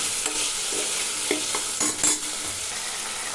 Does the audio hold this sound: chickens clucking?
no